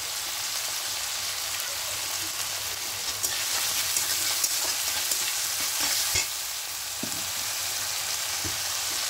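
Tomato and onion frying with salt in a pan for coriander chicken give off a loud, continuous hiss and crackle, broken by occasional scrapes of a stirring spoon, with no voices.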